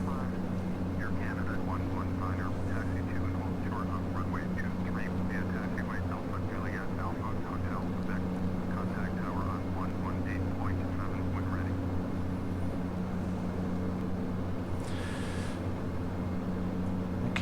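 A steady, loud drone of an airliner cabin as the plane climbs after takeoff toward 25,000 feet, constant engine hum and airflow with brief faint clicks and a chime near the end.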